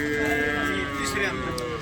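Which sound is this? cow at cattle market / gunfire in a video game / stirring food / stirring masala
cow at cattle market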